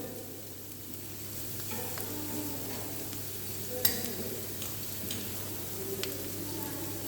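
Chopped cabbage, beans and celery stir-frying in a pan for a vegetable Manchow soup, a steady close sizzle with occasional scrapes and light clinks of the utensil against the pan.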